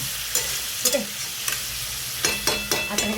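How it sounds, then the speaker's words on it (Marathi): Chicken and onion frying in a pan for a village-style country chicken curry, a steady background sizzle broken by several sharp scrapes and clanks of a spoon stirring the pieces, close and without talk. "आता चांगलं फ्राय करून घ्यायचं आहे चिकनवर आणि कांदा पण होतो फ्राय"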